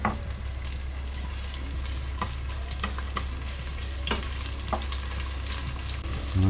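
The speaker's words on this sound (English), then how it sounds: "Okay, my oil is hot. I'm gonna first add my red onions." Red onions sizzle and crackle in hot oil in a pot for a Malaysian chicken curry, a steady close frying hiss broken by clicks and scrapes of stirring.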